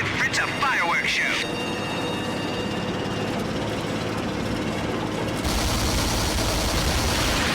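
Dense, continuous gunfire from the Call of Duty: Finest Hour Western Africa campaign on hard mode, with a loud, sustained wash of shots and battle noise and a brief high whine near the start.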